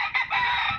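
A fighting rooster crows loud and close, a strained, sustained call that holds nearly a second with a brief dip early on, no voices over it.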